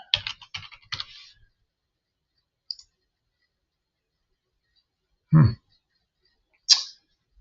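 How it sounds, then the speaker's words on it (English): Computer keyboard typing during a homework walkthrough: a quick burst of close key clicks at first, then a few isolated single clicks and taps separated by silence. "Oh, sorry, I kept typing."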